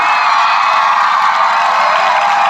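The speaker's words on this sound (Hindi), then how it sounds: "टीचरों से कहता हूं कि हाथ ऊंचे करके आप खुद तालियां बजाएं और इन बच्चों से बजाएं" Teachers and children at a school ceremony honouring top students clap together loudly and continuously, a dense steady wash of applause with scattered cheers.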